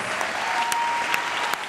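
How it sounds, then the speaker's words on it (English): Applause from an audience at a squash tournament, steady broadband clapping sustained throughout with a few sharper claps standing out, fairly close and loud, no voices on top. "A cheer for Ziad and for the girls."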